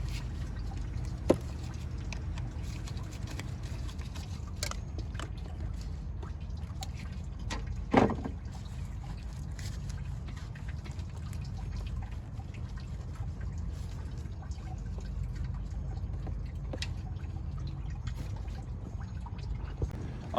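Coolant drains from the lower radiator hose of a Mitsubishi 3000GT during a radiator swap, a faint, steady trickle and drip with a few scattered small clicks over low background rumble, without speech.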